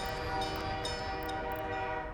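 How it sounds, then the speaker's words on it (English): A steady tonal train horn from the city-building game Workers & Resources drones over a low rumbling rail noise. The sound holds at an even level throughout, with no speech. "Might just be a train though? Yep, just a train."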